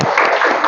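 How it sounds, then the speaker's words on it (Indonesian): Short burst of students clapping in a classroom after a correct group answer, close and fairly loud, lasting well under a second. "Bagus, tepuk tangan."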